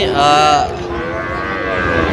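A Sahiwal bull at a cattle market gives a single loud, close moo lasting about half a second, followed by a fainter trailing low call amid the market's background hubbub.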